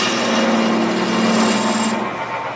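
A roughing gouge cuts into spinning wood on a lathe, a steady close whirring hum with a harsh scraping hiss that drops away near the end.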